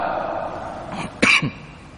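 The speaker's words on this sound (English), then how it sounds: "I have cough" A single sharp cough breaks through a faint background hum, short and close.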